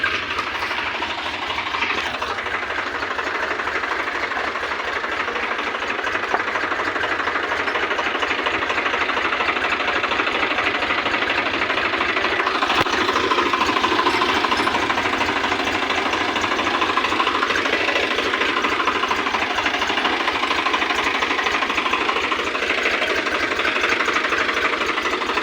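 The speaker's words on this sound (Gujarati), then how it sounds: "ચાલો ગાઈસ જઈએ ટ્રેક્ટર લઈને." A tractor engine runs outdoors with a steady, loud mechanical drone and rattle that holds without a break, and no voices are heard.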